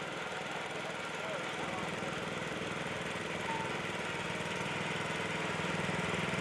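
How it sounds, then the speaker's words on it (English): A 1949 John Deere Model D garden tractor mower hauling a wagon of passengers at an antique machinery parade: a steady, moderately distant engine drone holds at even loudness throughout, with faint background murmur. "1949 John Deere Model D garden tractor mower with a wagon hauling passengers."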